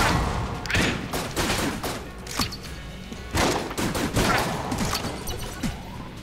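Chaotic gunfire from a weapon in Enter the Gungeon, the top-down dungeon shooter: a rapid, irregular volley of sharp shots and thuds, loud and near, bursting in clusters without pause.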